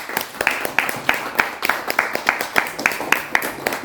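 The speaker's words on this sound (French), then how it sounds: "Donnons-leur une bonne main d'applaudissement." A church congregation claps at a household celebration, dense overlapping applause with rhythmic accents running steadily throughout, fairly close and lively.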